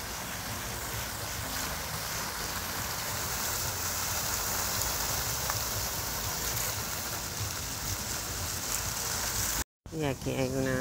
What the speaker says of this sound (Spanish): Y aquí hay una cascada